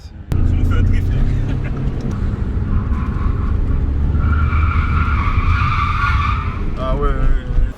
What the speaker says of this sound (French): Tu nous fais un drift là.